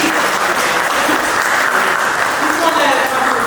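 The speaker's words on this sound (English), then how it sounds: "So if you guys can clap for my buddy James." Audience applause for a teammate at a talk on AI, a dense steady wash of many hands clapping that stays loud and even throughout with no voices over it.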